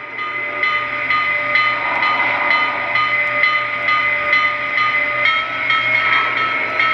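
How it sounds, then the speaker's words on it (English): A Lionel Southern Pacific 4426 GS3 model train bell rings in a steady, repeating rhythm, its bright metallic tone sustained and close, with no other sounds around it. "Okay, this is our normal bell."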